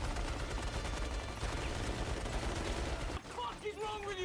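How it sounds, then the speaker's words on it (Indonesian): Dense, continuous gunfire from a film action scene, rapid bursts of shots blending into a loud fusillade that fills most of the clip before briefly thinning out near the end. "Dan sekarang mereka dibombardir oleh pasukan Poppy."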